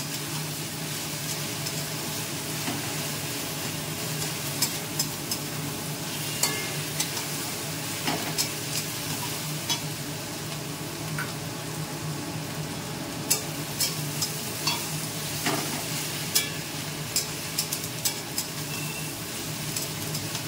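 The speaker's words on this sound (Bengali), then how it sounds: "পেঁয়াজ ভাজার বেশ একটা সুন্দর গন্ধ ছাড়ছে" Onions frying and being stirred in a pan, with a steady sizzle and scattered sharp scraping clicks from the stirring spoon, close and continuous with no talk.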